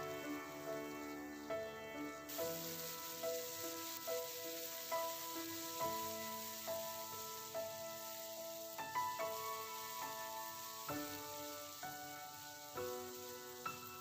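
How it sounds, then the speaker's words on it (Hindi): Garlic ginger paste fries over a medium flame in a pan for chicken rara, giving a soft, steady sizzle with faint stirring taps and no voices. "मीडियम फ्लेम पे लहसुन अदरक के पेस्ट को अच्छे से पका लेंगे।"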